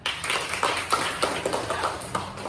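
Clapping from a class of pupils after a group presentation in a school classroom, a string of scattered, uneven claps of moderate loudness.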